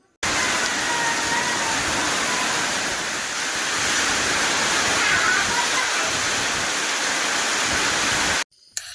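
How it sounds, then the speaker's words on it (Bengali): Heavy rain drums steadily on a tin roof, a loud unbroken roar that cuts off abruptly near the end. "টিনের চালের বৃষ্টির জমজম শব্দটা আপনাদেরকে একটু শুনিয়ে আসি চলুন"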